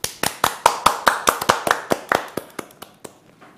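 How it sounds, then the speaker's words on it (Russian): Close, crisp claps from one or two pairs of hands on a VR gaming livestream, about fifteen evenly spaced strikes that gradually slow and fade out. "Овации звучат в чате."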